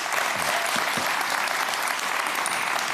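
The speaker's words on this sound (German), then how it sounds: "Super Applaus für Ariane, bitte." Studio audience applause on a televised cooking show, a dense, even wash of clapping holding at a constant level for the full three seconds.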